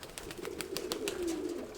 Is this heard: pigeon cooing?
yes